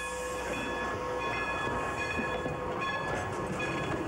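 A steam locomotive train rolls past with steady rumbling and rail clatter, sustained tonal whistle-like notes layered over the noise, moderately loud with no voices.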